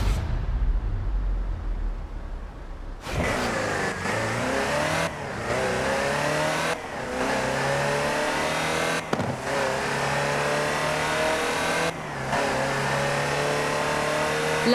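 Land Rover Type 3 in Forza Horizon 4, with the engine revving up repeatedly through several gear shifts: a steady mid-pitched motor drone that climbs in pitch, breaks briefly at each shift and climbs again, close and loud.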